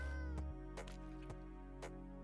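A cat in Minecraft gives several short meows, roughly four brief cries spaced unevenly over a couple of seconds above a steady low background hum, with no talking.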